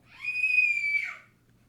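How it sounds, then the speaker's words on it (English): A young boy lets out a single sustained high-pitched scream lasting about a second, heard from a little way off in an otherwise quiet room. "If you hear my son in the background, he's just screaming."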